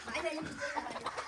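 Chickens cluck in short, agitated bursts nearby, several birds calling over one another in an uneven, excited rhythm.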